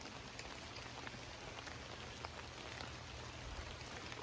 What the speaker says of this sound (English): we have changed from the bajillion degrees we were at yesterday to a cool rainy day